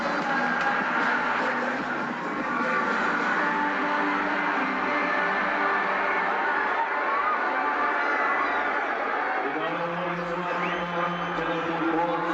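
Cricket stadium crowd at a Janakpur versus Lumbini match cheering for the Bolts after a second boundary in the over, a steady broad roar of many voices with whoops, sustained throughout.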